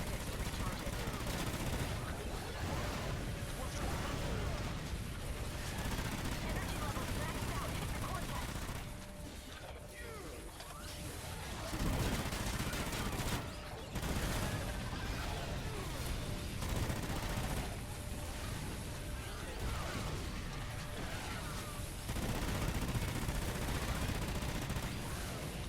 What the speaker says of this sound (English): Let's spam 3 of these things in a row, 3 of these mortar strikes.